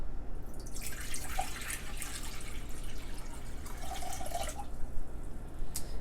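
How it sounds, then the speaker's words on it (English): Water pours steadily into a container with a continuous rushing, splashing sound, fairly close and without any talking. "So I'm going to go ahead and put my water in here."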